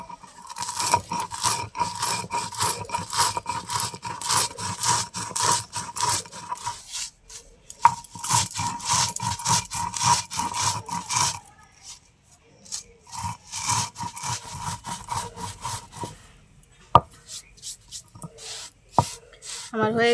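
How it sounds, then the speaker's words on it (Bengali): Whole spices are ground by hand for a mango pickle oil, making a steady rhythmic rasping and scraping in repeated strokes with short pauses, close and moderately quiet, with no talking over it. "আমার হয়ে গেছে মশলা গুঁড়ো করা"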